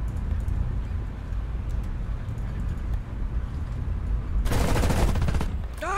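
Tank cannon fire in the War Thunder simulator battles: a low, heavy rumble of engine and battle noise runs throughout, then a loud, broadband blast bursts out near the end and lingers for about a second.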